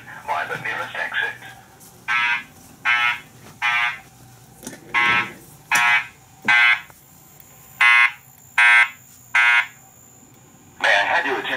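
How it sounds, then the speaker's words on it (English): Building fire alarm system under test: a loud electronic tone sounds in evenly spaced bursts of roughly half a second, about once a second, over a recorded voice announcement playing on the same system. "A fire alarm has been reported in the building."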